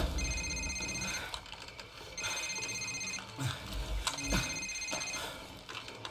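A cell phone rings repeatedly in a Call of Duty 4: Modern Warfare safehouse scene, bursts of electronic ringing recurring in a steady pattern over game background noise and thuds.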